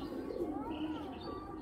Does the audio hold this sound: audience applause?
no